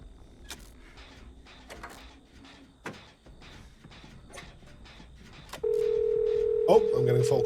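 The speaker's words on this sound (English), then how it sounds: "Oh, I'm getting a phone call." Telephone in a horror video game rings in after quiet speech and soft creaks, a loud steady electronic ring taking over near the end as someone speaks briefly.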